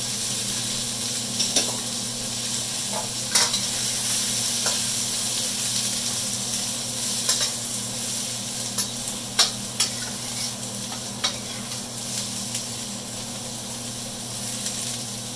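Onions tossed into a hot pan for Asian beef pepper steak, sizzling steadily while a utensil clinks and scrapes at irregular intervals as they are stirred and separated, close and clear, no talking.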